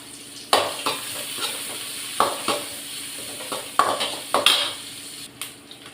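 Mustard seeds, onion and curry leaves frying in a pan, a soft continuous sizzle punctuated by repeated scraping stirs and clinks of a utensil against the pan, close up with no talking.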